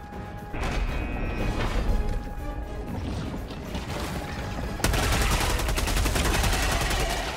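Sustained automatic gunfire while shooting bugs in a video game, a steady close rattle of shots that grows louder and denser partway through.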